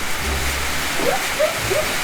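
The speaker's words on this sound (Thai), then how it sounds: "เฮ้ยฝนตก" Steady, hissing rain pours in a video game, a dense constant wash with faint tonal game sounds poking through.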